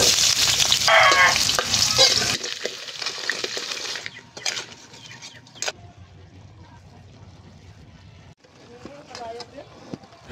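Crabs crackle and sizzle as they fry in cooking oil, the bright hiss loudest in the opening seconds before settling lower, with a voice talking over much of it.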